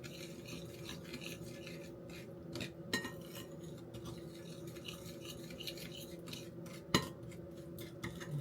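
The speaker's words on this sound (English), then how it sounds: "So I'm just going to keep stirring this. Like I said, till it's nice and creamy and combined." A spoon scraping and stirring oatmeal brownie cookie batter in a bowl, a continuous soft rasping with a few sharper clinks against the bowl, close and steady with no talk.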